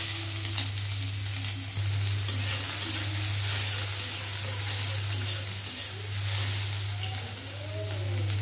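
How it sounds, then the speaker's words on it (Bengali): Rice frying in oil in a pan while being stirred, giving a steady close sizzle with scraping stir strokes over a constant low hum. "তো চলেন আমাদের ভাত ভাজাগুলো করে ফেলি। তো বন্ধুরা এই যে দেখেন ভাত ভাজাগুলো করে নিব। তো আগে তেল দিয়ে দিলাম"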